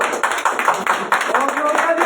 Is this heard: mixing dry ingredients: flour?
no